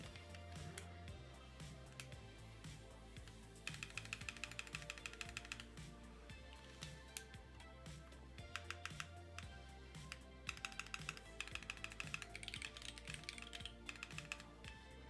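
Fast, steady typing on a custom-built mechanical keyboard with shallow tactile switches, producing dense, close clicks and clacks that run continuously with bursts of quicker keystrokes, no voices.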